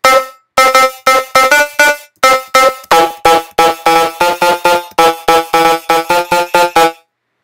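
A bright, brassy trap lead synth made in Native Instruments Massive plays a choppy staccato melody, short punchy notes in quick rhythmic bursts with brief gaps, loud and up front.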